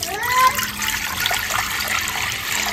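Water pours into a large wok (kadai) set up for cooking broken-rice bhaat, a short close splashing and trickling burst that settles into lighter dribbling.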